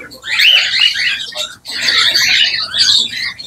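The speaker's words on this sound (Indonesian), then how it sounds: "Alhamdulillah sudah ada 3 pasang burung lovebird yang sudah masuk di kandang penangkaran." Lovebirds in a breeding cage squawk close by, a loud burst of harsh, shrill calls that breaks off briefly and then starts again.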